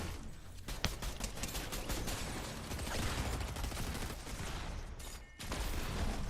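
Rapid video-game gunfire rattles in dense, overlapping bursts for the whole stretch, loud and close, with one short pause near the end before the shooting resumes.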